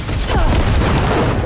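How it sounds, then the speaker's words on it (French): Turret gunfire from the Cyberpunk 2077 video game, a dense continuous fusillade of rapid shots with booming low end filling the short stretch, loud and close throughout. "c'est mal quand on tire de la tourelle, c'est sûr."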